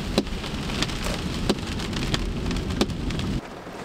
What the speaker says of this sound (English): Oh, that rain really picked up.